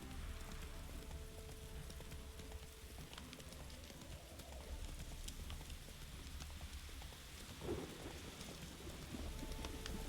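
Steady rain with occasional low thunder rolls during a storm in The Witcher 3, a continuous broadband wash with a few sharper drops and hoof-like clops, no talk.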